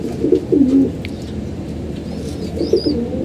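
Pigeons in a home loft give two short bouts of throaty, bubbling coos, close by, separated by a stretch of low background hum.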